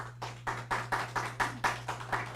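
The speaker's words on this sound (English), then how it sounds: "Let's give Bruno another applause." A steady round of hand clapping after an astronomy talk, distinct claps repeating at an even pace over a constant low hum, fairly close and moderately loud.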